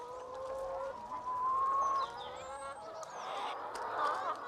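Free-range chickens sharing a pasture with alpacas, clucking and calling in a steady outdoor chorus at moderate distance, with a rising bird call near the start and a louder burst of cackling toward the end.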